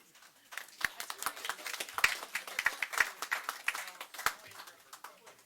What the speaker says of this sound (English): Oh, the clap.